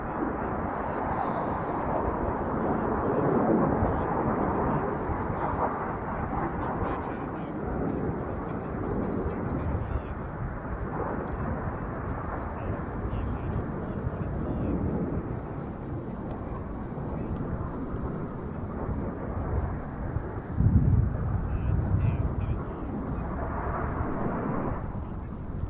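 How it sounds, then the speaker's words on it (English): A five-ship jet formation runs in at an air show for an upward bomb burst, a broad continuous roar that swells and holds across the whole stretch, with a louder surge near the end. "running in already is the 5-ship formation coming straight towards us for an upwards bomb burst called the Orchid"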